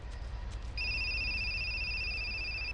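A mobile phone rings in GTA San Andreas as a steady, close electronic two-tone ring that cuts in after a short pause and holds through to the end over low game rumble.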